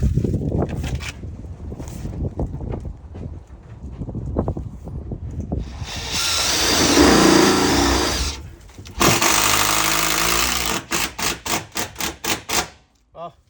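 A power screwdriver drives screws into iron cladding, giving a loud, close, sustained whirring grind in two bursts, followed by a quick series of short, rhythmic impacts, after earlier sparse tapping and handling noises.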